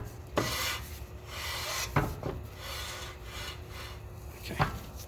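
Parking brake shoes on a BMW 750i rub lightly against the drum, giving a faint, repeated scraping swish with a few sharper scuffs as the wheel turns, with no voices.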